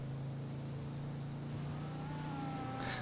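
An interceptor car's engine in a video game holds a steady humming drone with a slow rising whine, fairly quiet and continuous, with no voices.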